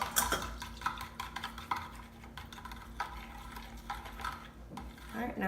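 Cinnamon roll dough mixture with sprinkled yeast being stirred in a bowl, giving soft repeated clinks and swishes of a utensil against the bowl, close and fairly quiet.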